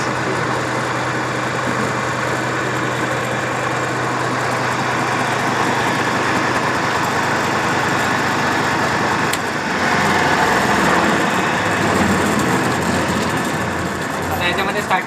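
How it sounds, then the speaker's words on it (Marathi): Electric motor humming steadily with one of its three supply phases switched off, a loud continuous drone throughout that shifts slightly in tone partway, with some speech in the background. "मोटरचा नॉईज चेंज झाला, मोटर जास्त करंट ड्रॉ करते."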